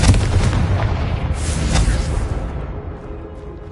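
Bombarda and Confringo spell blasts from the Hogwarts Legacy video game: heavy booming explosive impacts roll one into another at close range, loud and dense, then fade toward a quieter tail.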